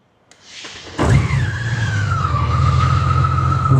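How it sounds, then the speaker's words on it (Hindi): A Honda Gold Wing Outrider Edition motorcycle fires up after a click and settles into a loud, steady, throaty exhaust rumble with a brief rising rev at the start. "स्टार्टअप करते हैं बाइक को, सुनते हैं इसका एग्जॉस्ट, एकदम क्रेजी आवाज आता है।"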